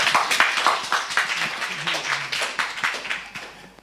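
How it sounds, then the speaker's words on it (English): A small crowd applauds steadily for a few seconds, claps rapid and overlapping, moderately loud and close. "Let's give her a round of applause."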